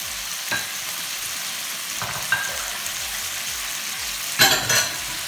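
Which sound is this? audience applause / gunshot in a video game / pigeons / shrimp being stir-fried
shrimp being stir-fried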